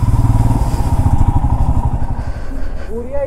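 A superbike motorcycle engine idles close by in a parking area, a loud, rapid thumping pulse that gradually softens, with a brief rising whine near the end.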